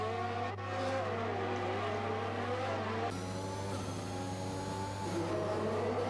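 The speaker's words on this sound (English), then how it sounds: "Ocon goes past, Gasly goes past, Verstappen goes past, Perez goes past, as does Lando." F1 2021 video game race cars at the Baku Grand Prix, a steady engine drone with rising and falling whines as several cars pass one after another, heard faintly without speech.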